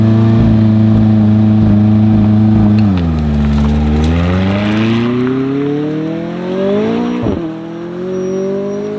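A McLaren 675LT engine launches hard, its loud harmonic roar dipping then climbing steadily in pitch through the revs before a sharp shift break near the end, with a continuing drone afterward.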